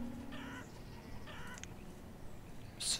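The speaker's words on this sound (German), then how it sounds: "Schicken. Hühner. Ich könnte ja Hühner dort rein tun." Chickens cluck in the medieval village-building game Banished, a few short clucking calls over a soft ambient background, fairly faint and with no talk.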